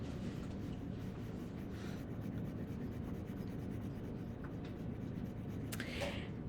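A pencil shades lips on a drawing worksheet in light gray at medium pressure, making a faint, close, continuous scratchy rubbing on paper with no voices.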